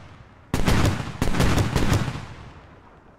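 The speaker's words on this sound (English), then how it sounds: "Someone's shooting at him." Bursts of rapid gunfire crack out in the military shooter Squad, two sharp volleys of several shots each with rolling echo trailing off, fairly close and loud with no talking.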